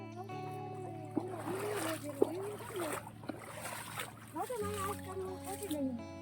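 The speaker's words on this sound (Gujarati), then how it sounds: "જો ગોગમ ધોધ જવા માટે આવી રીતે પાણીમાં" Splashing steps while wading through shallow water on the way to Ghogham waterfall near Sasan Gir, with irregular close splashes mixed under people talking throughout.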